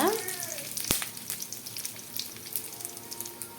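Four dried red chillies frying in hot oil for a ridge gourd chutney give a soft, quiet sizzle, with a single sharp clink early on and faint crackling after.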